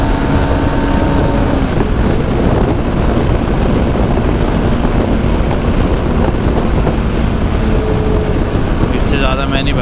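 A Yezdi Adventure motorcycle pushes hard at high speed in fourth gear, engine drone buried under heavy, constant wind roar on the helmet mic, with the rider talking over it.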